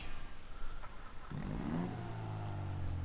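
A Weeny Issey Rally car engine revving in GTA 5 Online, a moderate mechanical drone that climbs and holds steady after a short quiet start, heard close and alone.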